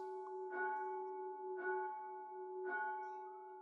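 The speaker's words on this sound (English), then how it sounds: "the bell was struck for tierce" A church bell is struck for the hour of tierce, three slow, evenly spaced tolls with long ringing hum sustaining between strikes, soft and somewhat distant, no voices.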